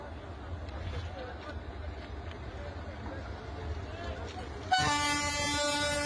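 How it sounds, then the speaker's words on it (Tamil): A train at a railway level-crossing gate slowly begins to move, a low rumble under crowd voices, then a loud, sustained horn blast cuts in near the end. "இதாண்டா நல்ல நேரம்னு லோக்கோ போயிட்டு மெதுவாக ட்ரெயினை நவுத்த ஆரம்பிச்சிட்டாரு."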